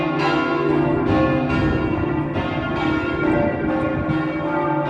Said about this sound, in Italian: È bello ascoltare il suono delle campane che ci invitano a lodare Dio